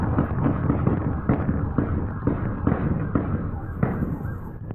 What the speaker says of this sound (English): What sounds like fireworks is a firefight. Police raining bullets on that SUV.